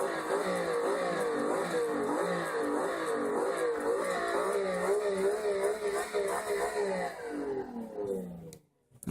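A video game car engine revs repeatedly, its pitch climbing and falling through rising and dropping sweeps, loud and close for most of the stretch before cutting out abruptly near the end.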